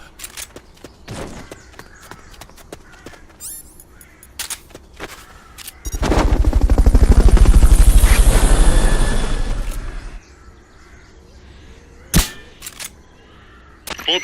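A Fulton recovery helicopter in Metal Gear Solid Peace Walker HD swells in with a loud, chopping rotor roar for about four seconds, then fades away, leaving quieter game sounds.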